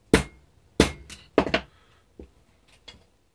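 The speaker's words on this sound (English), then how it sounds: "Hardly hitting it at all, so I just want to do it very gingerly" Light hammer taps on an M1 Garand barrel during peening, five separate sharp metallic strikes spaced unevenly, close and fairly soft, with no voices.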